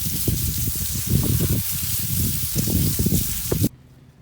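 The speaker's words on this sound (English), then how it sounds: "I'll just add some water. Get it all nice and wet." Water hisses and splashes steadily into a compost bin full of garden material for several seconds, a close, loud, continuous spray with uneven surges that stops abruptly.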